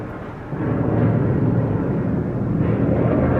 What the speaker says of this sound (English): there's a jet flying over me.